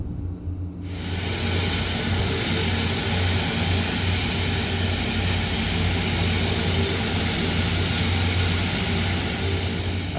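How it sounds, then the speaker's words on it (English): A Shorts Skyvan turboprop airplane taxis for a skydiving run, its loud continuous propeller and engine drone starting after a brief quiet moment and holding steady, close and alone. "So let's get the airplane moving and then we can run the taxi checklist."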